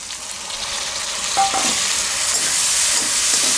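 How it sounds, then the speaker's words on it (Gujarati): Tomatoes drop into a pan of frying okra seasoned with red chili and salt, and a loud, close sizzle crackles continuously with a few stirring clinks. "હવે આમાં આપણે નાખી દઈશું આ ટમેટાં."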